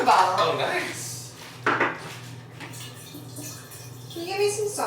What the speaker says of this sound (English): Filling up my water bottle.